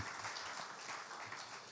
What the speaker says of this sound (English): Please appreciate her with another big round of applause.